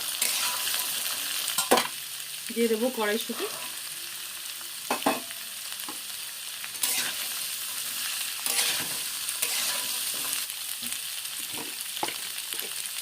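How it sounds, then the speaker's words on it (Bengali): Potatoes, cauliflower, carrot, beans and peas sizzle in a pan with intermittent stirring clacks, a steady close crackle throughout, and a brief spoken phrase early on. "এগুলোকে একসাথে ভেজে নেব।"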